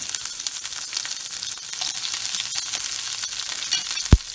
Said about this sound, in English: saute that for a few 2 to 3 minutes until you hear the sizzle